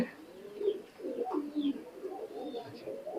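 Soft, low coos from high flying pigeons of an imported bloodline, a few rolling calls close by in a loft with faint chirps between them.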